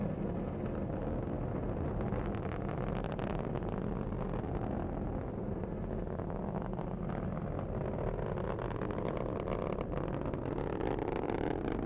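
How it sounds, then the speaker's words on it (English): Atlas V rocket booster engine roaring steadily during launch of the GPS IIF-7 satellite, a dense broadband rumble that stays loud and unbroken throughout with no voices. "Booster engine continues to operate well"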